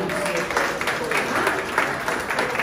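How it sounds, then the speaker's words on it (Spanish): An audience at a training program reception in Miami applauds the event sponsors, a moderately loud burst of clapping from a crowd with voices mixed in. "Un aplauso para ellos."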